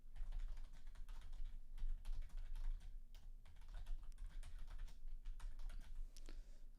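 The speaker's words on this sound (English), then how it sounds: "Let me type that in." Keys on a computer keyboard clatter in a steady, quiet stream of rapid keystrokes over a low background hum.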